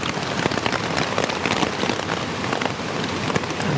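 Heavy, steady rain drums on a nearby surface during a thunderstorm while wild camping on UK moorland, with dense, continuous patter and no voices.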